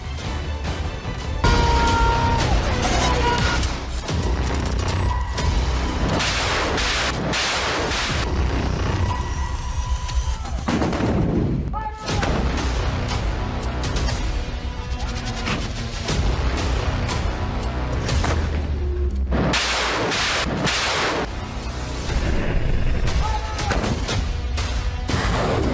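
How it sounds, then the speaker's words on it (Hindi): Explosions and artillery fire in war footage: loud, dense booms and blasts crowd one another continuously, with sharp impacts and rumbling tails throughout. "पाकिस्तान के कोने कोने में धमाका होगा और वो धमाका कैसा होगा ये आप इस वीडियो में देख सकते हैं"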